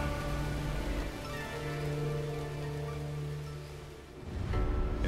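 Steady rain pours in the Shadow Warrior video game, a dense close patter with low rumbling undertones and a rising surge near the end, no voices.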